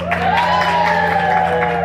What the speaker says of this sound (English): When you hear a little bit of applause, you hear a little more applause.